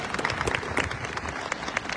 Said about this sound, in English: Let's clap for the sunshine.